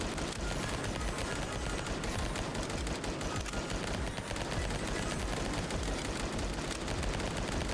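Continuous light machine gun fire in a silly roguelike video game, a dense and unbroken rattle of shots at steady volume throughout, with no voices.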